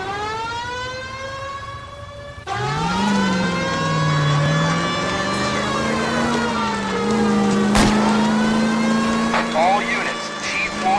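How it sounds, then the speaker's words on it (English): A car in a police pursuit in the video game L.A. Noire roars steadily at close range, with a wailing siren rising and falling over the engine for the whole stretch. "That's Kelso's car."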